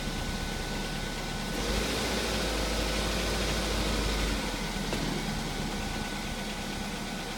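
A Ford Focus engine runs with a low, steady rumble that swells in the middle as the gas is pressed, then settles back to a constant drone. No one speaks.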